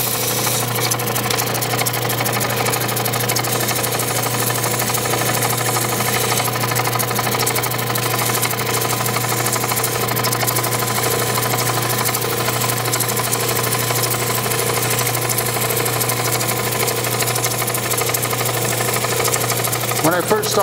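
A jewelry maker grinds on diamond wheels, producing a loud, continuous motor whine and grinding drone that holds steady throughout, with voices faintly present beneath the machine noise.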